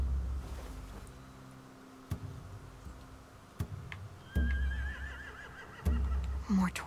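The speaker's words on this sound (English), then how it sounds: "Over here, they have horses." Horses whinny and snort near a boat at a camp in The Walking Dead video game, a rising neigh cutting over quiet ambience with a few sharp knocks and thuds, no one talking.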